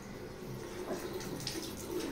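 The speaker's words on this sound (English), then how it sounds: "Open the faucet." Water running from a household faucet into a sink, a soft, continuous splashing hiss, fairly quiet and close, with no talk over it.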